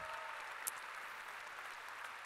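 Audience applause at a live show in Halmstad, clapping for a local band; a steady, dense wash of hands holding even throughout with one sharper clap standing out, no voices over it.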